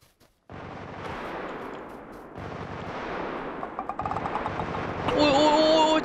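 Gunfire rattles out in the battle royale game PUBG Lite, with dense bursts of shots that build in intensity, and a bright electronic game tone appears near the end.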